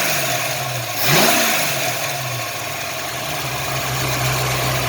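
A 1983 Ford Mustang engine idles steadily after a carburetor swap, a loud, close, even drone with one brief rev near the start before it settles back to idle.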